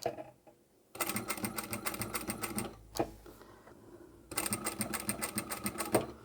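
A sewing machine stitches a leather or vinyl pouch in two rapid, rhythmic runs of close needle clatter, separated by a pause with a single knock and a faint shuffle.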